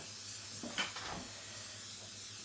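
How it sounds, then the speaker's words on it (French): A can of grease spray is sprayed into a baking mould in a home kitchen, giving a short soft hiss or two in the middle against a quiet room. "À saupoudrer de ma bombe graissante"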